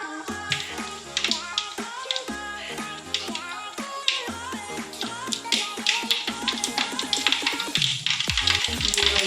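Mustard seeds crackling in plenty of hot oil in a pan, a dense burst of sharp pops and snaps over a steady sizzle, close and loud, quickening toward the end.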